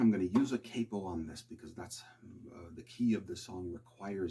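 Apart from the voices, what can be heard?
None of the usual background noises is heard.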